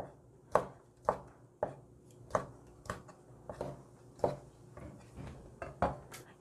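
A knife slices Vienna sausage thinly for Korean army stew, crisp board taps landing in a steady rhythm roughly every half second, close-miked and alone, with faint kitchen background.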